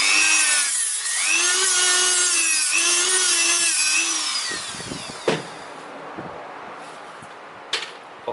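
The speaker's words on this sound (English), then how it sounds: "then I use this Dremel with sanding paper, and I polish a little bit these heads" A Dremel multitool fitted with sanding paper polishes car brake pads, a loud high whirring grind with wavering pitch for about four seconds, then it stops, leaving faint taps and handling knocks.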